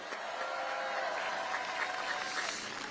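Applause from the audience at a Pyeongtaek, Osan and Anseong political rally, a steady, moderately loud clapping crowd heard from a distance for a few seconds, with a faint voice in the mix.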